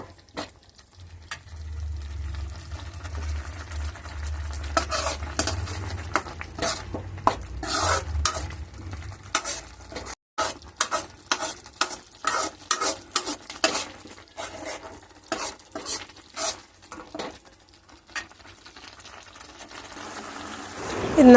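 Ground tomato and onion gravy bubbles in a pan for a squid thoku, with a low simmering rumble at first, then a run of scraping, clattering stirs against the pan that come and go through the middle and end.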